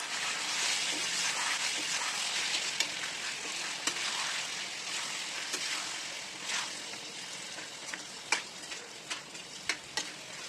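Marinated goat liver fries in oil as it is stirred, making a continuous crackling sizzle with sharp spatula taps and scrapes scattered through it, close and moderately loud, with no talking.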